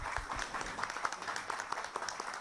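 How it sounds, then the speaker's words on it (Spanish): Audience applause at a presentation event, a continuous crackle of many hands clapping heard at moderate distance, steady throughout. "el aplauso para Diego Domingorena"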